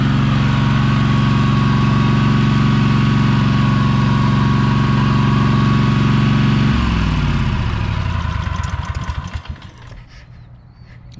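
A pull-start engine on a small machine runs loud and close at a steady idle, then the throttle changes and the engine sputters down and dies toward the end.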